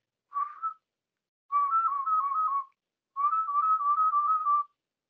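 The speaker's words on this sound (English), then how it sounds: "everything that sounds like this is warbling." Warbled human whistling: a short burst followed by two longer phrases in which the pitch flips quickly and smoothly between neighbouring notes, clean and isolated with silent gaps between.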